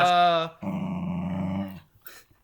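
A dog growls, opening with a short whiny, tonal snarl, then a low rumbling growl lasting about a second, close and fairly loud before trailing off into quiet.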